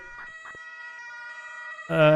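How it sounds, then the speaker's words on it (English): An ambulance siren in the Emergency 4 video game plays as a thin, steady electronic tone with brief blips, then a much louder harmonic burst at the end. A voice talks over it. "Ambulance is arriving."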